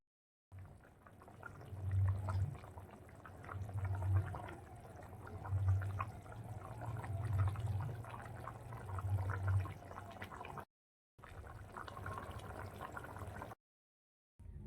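Water poured into a pot of Bengali kosha aloo dum potato curry, a soft intermittent gurgling trickle in repeated bursts, fairly quiet, with brief silent gaps near the end.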